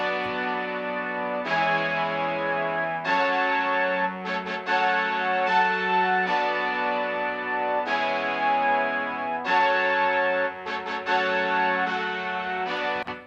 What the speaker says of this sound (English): So next I added some brass,